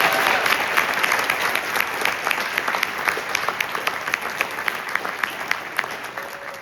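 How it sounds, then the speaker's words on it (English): Middle school honor band concert audience applauds students on stage, a steady wash of many hands clapping that slowly tapers, with no talk over it. "So would you clap for these students on stage?"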